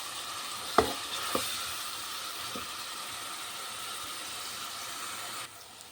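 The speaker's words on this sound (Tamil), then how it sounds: "இதை இப்போ நம்ம நல்லா பச்சை வாசனை போகிற அளவுக்கு வதக்கிடலாம்." Onion paste with salt sautéing in a pan for brinjal curry, a soft continuous sizzle with a few sharp utensil taps early on, close and without talk, easing down near the end.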